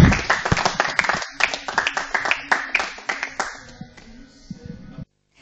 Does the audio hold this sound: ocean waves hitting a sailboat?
no